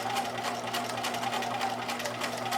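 Sewing machine stitching the edge of a fabric face mask with a 3/8-inch guide, a steady close, loud mechanical whir with a continuous hum and rapid needle chatter, running alone without talk.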